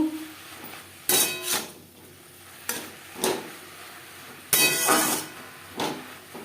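A spoon stirs taro leaf paste in a cooking pot, making about six loud scraping strokes in uneven bursts, close up and with no talking.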